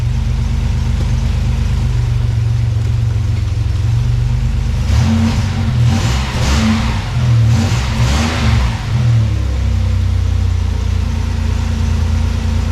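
A Toyota 4Runner engine runs after major engine repair, idling loud and close with a deep steady rumble, then revving up and down for several seconds before settling back to a smooth idle.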